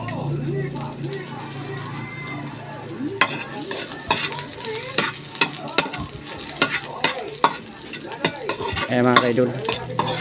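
Onions sautéing in a pan for a vegetable dish, a continuous sizzle broken by frequent clattering stirs from a spatula, close by, with someone talking over it.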